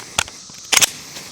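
Sharp pistol reports from a Smith & Wesson M&P Carry Comp at a shooting range: one lone shot, then a quick tight pair about half a second later, and a fainter trailing shot, loud and close.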